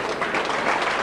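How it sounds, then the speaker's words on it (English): Sympathetic applause from a large rugby league crowd at a St Helens versus Bradford playoff match, a steady dense wash of clapping filling the whole moment. "Sympathetic applause from this large crowd here at Nosey Road"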